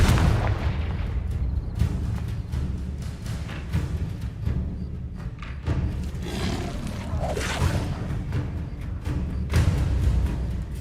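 Confringo fire spell explosions in Hogwarts Legacy, a dense run of booming blasts and low rumbles over continuous game noise, loud and close without pause.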